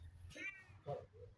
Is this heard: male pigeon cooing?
no